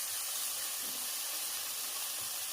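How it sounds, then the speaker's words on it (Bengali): Vegetables cooking in a hot pan give off a steady, close hiss of steam and sizzle that runs without a break and with no one talking. "এটা একটু সেদ্ধ হচ্ছে।"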